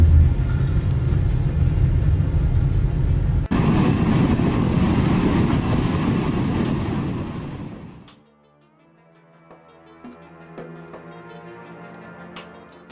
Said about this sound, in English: When a tornado shows up uninvited, all you can do is hold on tight and enjoy the ride from a safe distance.